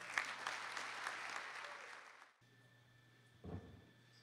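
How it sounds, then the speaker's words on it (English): Warm audience applause at an award evening honoring Marc Rizzardo, a full room clapping steadily for about two seconds, then cutting to quiet with a brief rustle or thump near the end. "Thank you for a warm applause"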